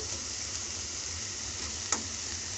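Tomatoes sizzle steadily in a spice masala while being stirred, a close, continuous frying hiss with one brief sharp tick near the end and no talking.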